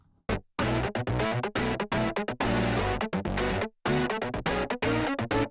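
A synth part run through an HRK CS566 500-series SSL-style unit, with low end scooped and heavy drive, plays loud, dense, gritty chord stabs in a steady choppy rhythm with short breaks.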